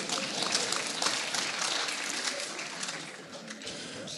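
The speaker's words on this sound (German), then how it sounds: "Auch eigentlich schlimm, dass man dafür einen Applaus gibt" Soft, steady applause from an audience at a talk-show style interview with Lena Meyer-Landrut, a diffuse wash of clapping that holds evenly throughout at a quiet level.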